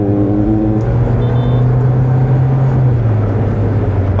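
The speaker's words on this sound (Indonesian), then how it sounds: "Tenaganya, kita kick down lagi." Honda CR-V RD1 engine, 133 hp and not yet VTEC, pulling hard on a kick-down, a steady loud drone with a rising then falling harmonic tone as the revs climb and shift, heard from inside the cabin with no talk.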